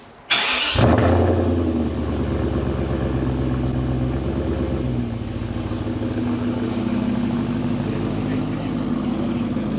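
A BMW E31 840ci with straight-through stainless steel pipes and no back boxes starts with a sharp burst, then settles into a loud, deep, steady idle rumble that carries on close by for the rest of the clip.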